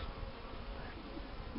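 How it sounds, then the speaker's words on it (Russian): Honeybees flying out of the hive during a winter thaw, a faint continuous buzzing hum of many wings, quiet and steady without talk. "И вот пчелы решили полетать"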